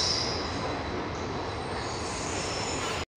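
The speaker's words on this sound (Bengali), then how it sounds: "সাথে ট্রেনও যাচ্ছে" A train passes at Alipurduar Junction station with a loud, continuous rolling rumble and a high wheel squeal that ends abruptly after about three seconds.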